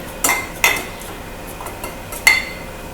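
Three or four sharp clinks of a glass tapping and pressing an Oreo biscuit mixture down into a glass dish, separated by soft scraping, close and clear in a quiet kitchen.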